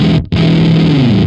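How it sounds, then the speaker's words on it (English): Electric guitar through a Teaching Machines Fuzzbillion fuzz pedal with its output clipping engaged gives a thick, beefy distorted tone. The note cuts out briefly, then sustains with a slight pitch bend, loud and alone. "Does add a nice, thick, beefy layer of distortion"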